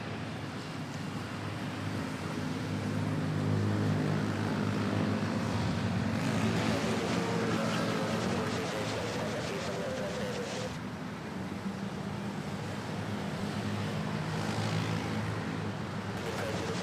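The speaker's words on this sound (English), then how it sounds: "the PAL that's landing right now" A Philippine Airlines jet lands at Manila Airport with a continuous mid-distance engine rumble and rushing air noise, surging once midway and staying steady throughout, with no talk.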